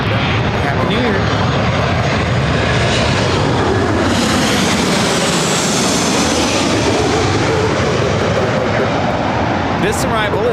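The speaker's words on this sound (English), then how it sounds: "This arrival is United Airlines 565 coming in from San Francisco on the 737-800" A United Airlines Boeing 737-800 arriving from San Francisco gives a loud, steady roar of jet engines that holds throughout, with a broad rumbling wash, while people talk over it.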